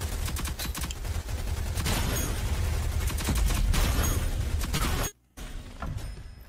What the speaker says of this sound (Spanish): Ni siquiera le escuché con tanto pinche disparo